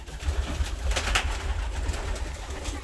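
Pigeons coo in a coop, where a bird sits on eggs. Soft, low, rolling coos pulse steadily and close by, with no voices.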